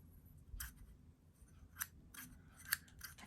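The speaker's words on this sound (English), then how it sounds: "Then I wanted to get some longer scissors." Long stationery scissors are handled up close and snip several times, with sharp, quiet cuts spaced irregularly over a few seconds and no talking.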